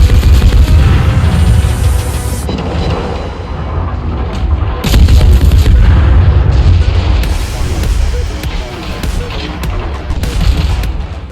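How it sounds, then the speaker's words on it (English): Naval guns of the German tier 2 cruiser Dresden in World of Warships fire in heavy, repeated booming salvos, loud and close, with dense rumbling blasts layered over one another throughout. "Now watch the number of shots that I put into her for returning damage"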